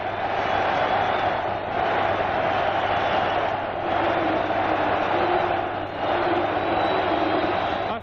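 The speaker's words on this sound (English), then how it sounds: "listen to this crowd of Celtic fans celebrate" A large crowd of Celtic fans roars at the final whistle of a 1981–82 Old Firm match against Rangers at Ibrox, a dense, sustained stadium din heard through an old radio broadcast.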